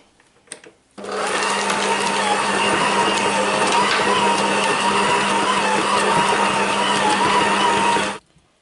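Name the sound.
mixing nougat mixture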